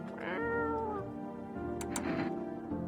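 A house cat in the video game No, I'm Not A Human gives a drawn-out, wavering meow up close, followed by a second shorter meow and a faint clicking sound, with no talking over it.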